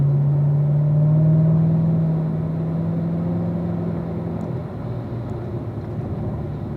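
A race car on a road course circuit drones steadily past as its engine tone climbs, then drops at an upshift to fourth gear and continues at a lower pitch, loud and close, no speech.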